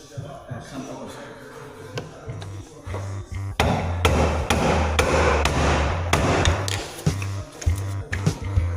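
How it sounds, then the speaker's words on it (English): Repeated hammer blows strike metal car parts during a K20 turbo engine swap, irregular sharp clanks at close range, with a low engine-like drone and some background voices. "We had to implement his favourite tool, which is the hammer"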